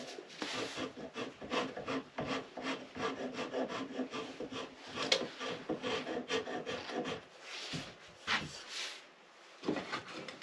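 A carbide rod filed by hand across a five-pound axe head, giving a quick run of rough, rasping strokes in close, steady rhythm with a few short pauses near the end.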